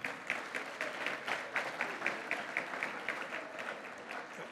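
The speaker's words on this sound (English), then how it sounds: "Let me give you a well-deserved round of applause." An audience at the 2022 MDC Alumni Hall of Fame event breaks into steady applause, many hands clapping in a dense, moderately loud wash with slightly pulsing rhythm throughout.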